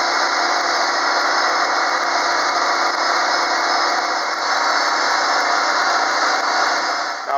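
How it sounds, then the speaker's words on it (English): Steady hum and hiss of a lathe spinning while a deer antler pen is sanded with fine grit paper, continuous and fairly loud with no pauses and no talk. "now I'm going to go ahead and start sanding at 240 all the way up through 800 grit"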